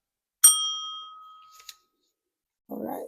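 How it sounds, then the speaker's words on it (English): A small desk bell is struck once with a bright, clear ding that rings out and fades over about a second. A faint tap follows, then a brief low rustle. "Okay, let's ring the bell."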